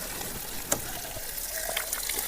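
Water runs steadily out of a double filter system on a farm, a soft continuous gush with a few faint splashes, heard alone at moderate level.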